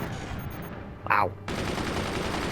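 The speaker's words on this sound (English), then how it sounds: "Just another salvo just to make sure nothing's there." An artillery salvo fires in the Forts strategy game: a brief voice sounds, then a dense, loud barrage of overlapping shots rolls on continuously to the end.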